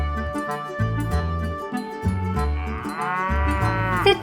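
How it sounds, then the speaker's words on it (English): Texas Longhorn cow mooing in a series of deep, drawn-out lows, loud and close, with one long rising bellow near the end and no talking. "The Texas Longhorn Cow."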